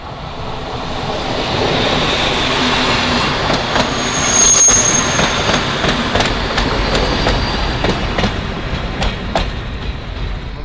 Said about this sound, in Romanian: Bă, vine trenul.